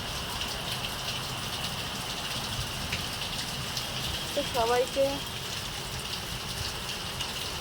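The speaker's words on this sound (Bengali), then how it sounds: "এবছর যা বৃষ্টি হলো সে আর বলার কথা না প্রচুর বৃষ্টি" Steady heavy rain pours from a dark, cloud-filled sky, a dense even hiss throughout, with a brief voice speaking near the middle.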